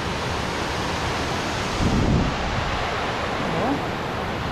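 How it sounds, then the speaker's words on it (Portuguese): Cachoeira do Salto waterfall in São Pedro de Alcântara: a loud, unbroken roar of rushing water fills everything, swelling slightly midway with no pauses. "que lugar maravilhoso aqui em São Pedro de Alcântara, a Cachoeira do Salto"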